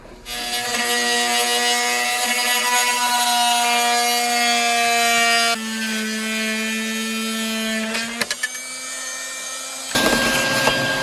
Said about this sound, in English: We use a multi-tool. It cuts down a lot on dust and things flying versus a saw.